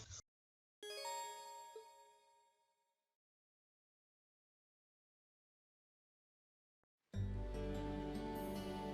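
A bright silver bell in a fantasy role-playing game chimes once with a clear metallic ring that decays over a couple of seconds, followed by silence and then a burst of game music.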